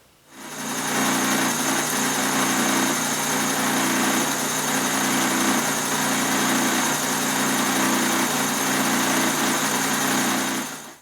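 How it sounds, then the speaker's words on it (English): A power drill with a 1/2 inch Forstner bit whirs steadily at high speed for about ten seconds, loud and close, with a slight change in pitch as it bores a hole. "to drill that hole, I'm going to be using a 1/2 inch Forstner bit."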